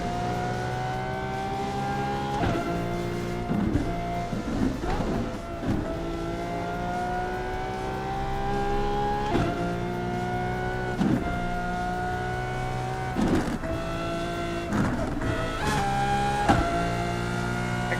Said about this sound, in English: Got some BMW M-Power here.